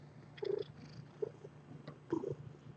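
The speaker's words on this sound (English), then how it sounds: "Maybe you can hear the purrs." A cat purrs softly close by, with a few brief louder bursts over a quiet, low background.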